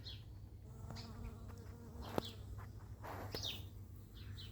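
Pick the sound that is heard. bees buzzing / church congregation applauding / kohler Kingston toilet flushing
bees buzzing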